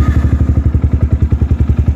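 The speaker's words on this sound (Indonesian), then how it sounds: "Mesinnya juga halus, ayo dengerin mesinnya, bisa nggak?" A 2015 Yamaha R15 V2 motorcycle engine runs close by with a fast, even pulsing throb and a slight clatter, loud and steady with no talk.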